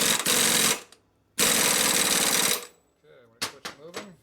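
A 1 3/8-inch socket nut on a 1972 Harley FLH 98ci shovelhead stroker motor is driven tight with two long, loud, rattling power-tool bursts. A short pause follows, then a voice speaks briefly.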